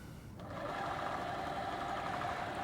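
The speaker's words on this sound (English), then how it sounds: "that's a significant amount of lug noise" A GMade MT-1901 RC crawler's tires give off a steady, buzzing lug hum that swells in about half a second and then holds loud and even, with no talk over it.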